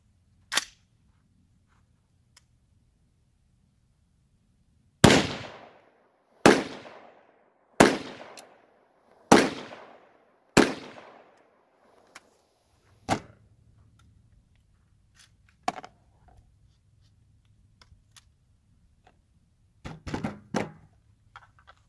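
Pistol shots fired outdoors at targets 65 yards away: five sharp, evenly spaced reports with short echoing tails, followed by a few fainter, scattered pops.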